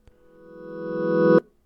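A reverse synth hit sample that swells steadily from silence into a bright, buzzing chord and cuts off abruptly at its peak, close and loud, with a small click before it and no voices.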